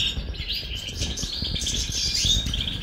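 A pair of goldfinches defending their eggs gives quick, continuous high chirps and twitters against a low background rumble, fairly faint.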